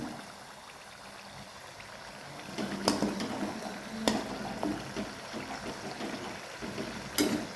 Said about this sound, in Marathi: आलटून पलटून चांगलं बारीक गॅसवर आपल्याला तळून घ्यायचं आहे